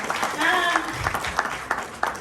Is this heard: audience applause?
yes